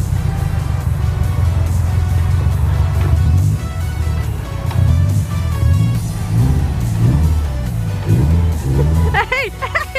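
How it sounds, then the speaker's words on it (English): A car engine revs loudly and repeatedly, with a deep steady drone that swells in rhythmic surges, and a few brief higher sounds near the end. "His car revving it."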